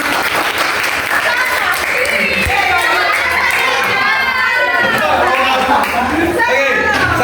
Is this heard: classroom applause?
yes